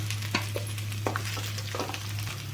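Chopped onion sautéing in oil with okra, a soft steady sizzle broken by occasional scraping stirs of a spatula against the pan.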